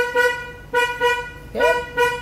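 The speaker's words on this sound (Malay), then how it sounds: "kita tekan horn" Car horn on a Perodua Viva, four short close honks in quick succession, loud and clear with no voices.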